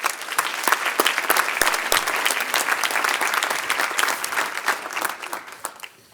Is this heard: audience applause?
yes